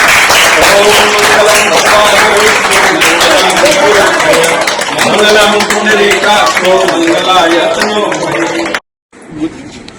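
An audience claps continuously and loudly after a ribbon is cut to open a World Youth Skill Day celebration, sustained applause mixed with voices that stops abruptly near the end.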